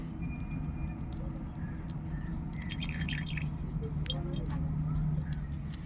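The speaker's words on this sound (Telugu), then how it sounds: "చేపలు ఫ్రై చేసి పెట్టుకున్న నూనె అయితే దాన్నే పోస్తున్నా" Leftover oil from frying fish is poured into a pan, with soft trickling and a scatter of small drips over a steady low background hum.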